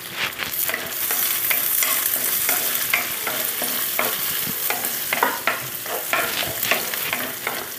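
Green chilies and curry leaves fry with garlic and ginger in a pan for a Kerala stingray curry, giving a loud, steady sizzle broken by frequent spoon scrapes and stirring knocks up close.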